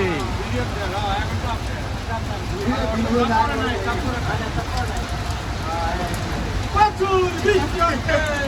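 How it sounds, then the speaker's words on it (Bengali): Heavy rain falls in Riyadh, Saudi Arabia, as a dense, continuous wash with a low rumble, while someone speaks over it throughout. "প্রচুর বৃষ্টি হচ্ছে।"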